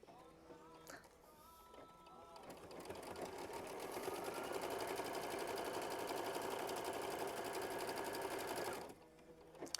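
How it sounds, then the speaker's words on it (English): A sewing machine runs in one sustained stretch of fast, even stitching through quilt block fabric, starting after a few clicks and stopping abruptly near the end, close and steady. "we're going to sew machine stitch step 23."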